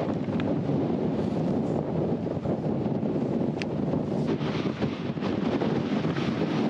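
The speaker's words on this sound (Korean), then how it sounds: "호수에서 불어오는 세찬 바람" Strong, gusting wind off a lake in northern Mongolia, roaring steadily and loudly across the microphone with rough buffeting and no voices.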